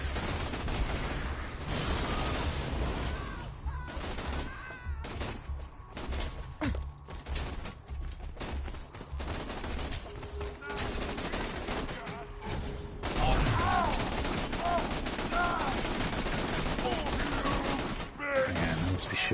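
Gunfire from shooting in Borderlands 2 on PlayStation 4, heard as repeated bursts and single shots in a cluttered in-game mix, with a voice talking over parts of it.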